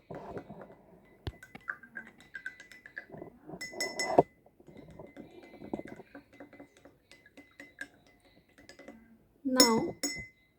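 Light clinking of a spoon stirring water in a glass, repeated in short bursts, with a louder rattling clatter near the end; quiet, close, no talking.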